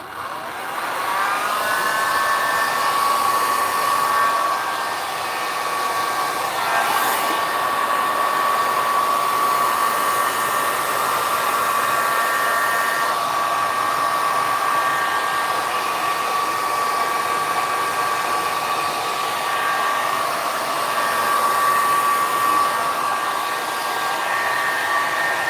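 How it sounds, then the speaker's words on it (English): A heat gun dries alcohol ink artwork, blowing a steady, loud whooshing roar with a thin whine on top that runs without a break for the whole stretch. "I might just add a little heat to get this center area dried off using my heat gun"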